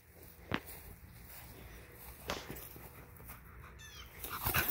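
A dog shuffles and makes small sharp noises up close, with scattered thumps and faint whimpering sounds.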